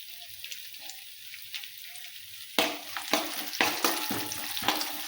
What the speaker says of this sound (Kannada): ಸ್ವಲ್ಪ ಕಲರ್ ಚೇಂಜ್ ಆಗೋದನ್ನು ತಿರುವಾಡ್ತೀನಿ ನೋಡ್ರಿ